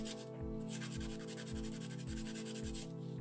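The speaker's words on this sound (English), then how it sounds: "so you can also practice filing if you like to" An acrylic nail is filed by hand in rapid back-and-forth strokes, a close, steady rasping scrape repeating in a regular rhythm of roughly two strokes per second, with no talking.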